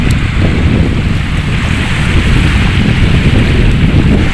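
Sea water washing in at high tide along the shore, a steady loud rush of surf and wind noise that fills the whole moment with no pauses and no voices.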